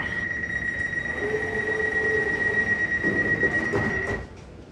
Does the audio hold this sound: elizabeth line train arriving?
yes